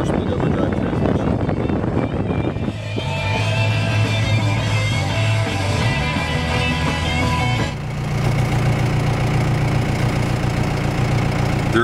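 A 3.9L Cummins 4BT turbo diesel swapped into a 2008 Jeep Sahara idles with a steady, loud, low drone, and the engine note shifts slightly partway through.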